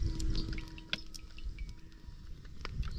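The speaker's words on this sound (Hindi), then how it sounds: "तो यहाँ पे देखिए सरसों का तेल डाल दे रहे हैं।" Mustard oil poured into a kadhai for an okra (bhindi) dish, a soft liquid trickle with faint drips, quiet and close, with no voices.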